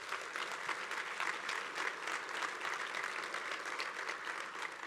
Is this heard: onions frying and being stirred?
no